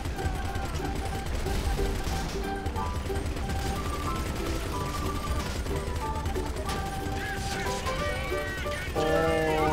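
Gunfire in the video game GTA V Online, rapid bursts and single shots mixed with mechanical clatter and crashes, loud and dense, with talk and game sounds throughout.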